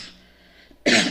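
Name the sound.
allergic cough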